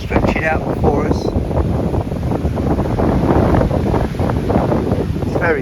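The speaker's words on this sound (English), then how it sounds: "it's very windy here" Strong wind buffeting the microphone on a hillside above the sea, a loud, steady roaring rush with gusty texture throughout, a voice faintly audible at moments.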